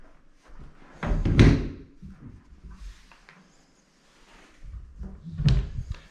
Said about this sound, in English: Love these doors, sound really nice. Original doors.